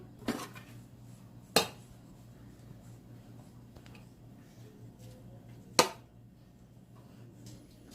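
Chicken biryani is served out with utensils: a few sharp metallic clinks and scrapes against a pot stand out over a quiet low hum, with long pauses between them.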